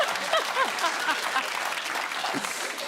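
A studio audience at a comedy panel show applauds steadily, a dense continuous patter of many hands clapping at moderate volume, with some voices mixed in.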